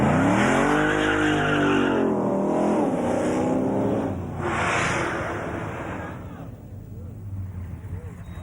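A race car makes a Summernats qualifying run, loud engine revving and rising with harmonic sweeps, then tires squealing and skidding before the roar fades out, with an announcer talking over it.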